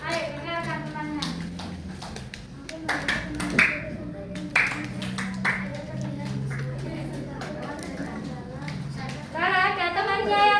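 Elementary school children in a fourth-grade classroom clap together in short counted bursts, with sharp claps mixed among a teacher's spoken prompts and children's voices.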